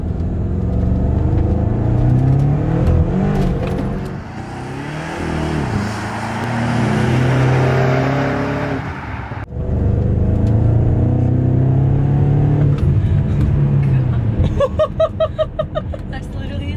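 A 600-horsepower BMW's engine revs hard and climbs in pitch as it accelerates in second gear, loud and close from inside, with a gear change midway and brief talking near the end.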